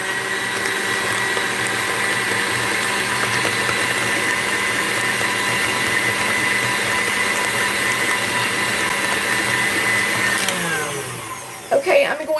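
Electric mixer with a whisk beating peanut butter and cream cheese filling for a no-bake Southern peanut butter pie, a steady loud whirring drone that runs about ten seconds before winding down, followed by a few clinks and handling noises.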